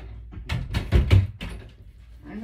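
A door is opened to let a dog in, giving a short cluster of knocks and clunks from the latch and frame, close by and fairly loud, with a voice briefly audible.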